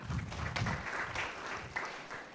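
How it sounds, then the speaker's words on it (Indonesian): A church congregation applauds during an online worship service, a faint, fairly short burst of many hands clapping together with no voices over it. "berikan tepuk tangan meriah buat Tuhan kita"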